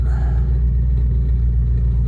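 A GMC Sierra pickup with a 5.3 V8 idles up close, giving a steady, loud, low rumble that holds even without revving.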